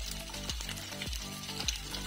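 Spices, salt, chilli powder and garam masala, sizzle as they fry in a pan, with a steady close hiss broken by a few brief stirring scrapes.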